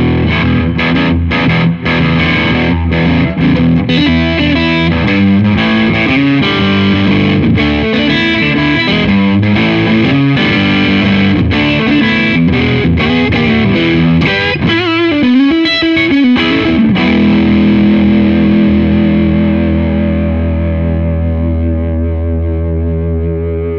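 Gretsch G6119T Players Edition Tennessee Rose electric guitar on its neck pickup, played continuously with loud driven chords and riffs, a slightly dirty, effects-tinged tone ringing out at the end.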